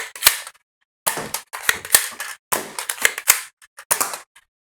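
A Dart Zone Storm Squad toy dart pistol fires downrange, each sharp plastic snap followed by a slight rattle, in a series of close, loud shots with short pauses between them.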